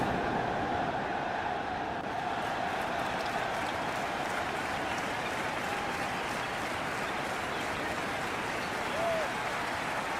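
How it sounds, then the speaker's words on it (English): Stadium crowd at a World Cup football match between Spain and Cape Verde keeps up a steady, distant roar of cheering, with a commentator talking over it. "The crowd right behind their team here."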